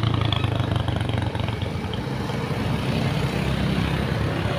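Dense engine noise fills the air as many motorcycles and other vehicles crowd across a bridge in Madapangga, a steady close rumble with no breaks.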